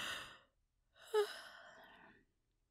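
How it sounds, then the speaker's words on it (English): A woman yawns softly and close up in an intimate whispery setting, a breathy exhale trailing into a brief gasp-like peak and a sustained airy sigh before silence. "I'm just yawning because we're talking about dreams."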